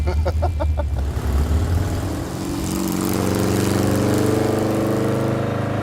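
A rowdy-sounding car engine starts with a rough, pulsing idle, then revs up into a steady, loud, throaty drone that holds close by.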